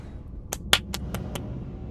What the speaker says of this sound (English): See, I was clapping my hands there,